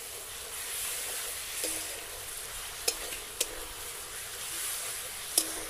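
Garlic and ginger spice paste frying in a pan, a steady bright sizzle hissing throughout, with a few sharp clicks of a spoon stirring against the pan.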